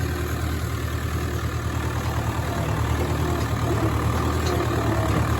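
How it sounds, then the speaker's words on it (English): A heavy old four-wheel-drive David Brown tractor engine idles steadily and close by, a constant low rumble with no breaks or talk over it. "the old tractor runs really, really good"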